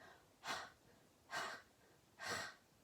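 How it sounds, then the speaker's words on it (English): Three evenly spaced, forceful pulsed breaths during a hip-opening exercise routine, each a short airy burst close to the mic, separated by brief quiet pauses. "Now you're just going to pulse that breath."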